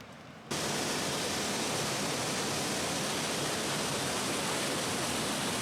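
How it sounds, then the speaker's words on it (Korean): At a waterfall near Jasper, Canada, after a brief quieter moment, a loud, steady roar of falling water fills everything, constant and unbroken. "요동치는 거대한 물소리가 지축을 흔든다. 제스퍼타운에서 그리 멀지 않은 곳에 있는 폭포다."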